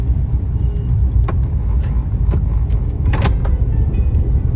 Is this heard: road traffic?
yes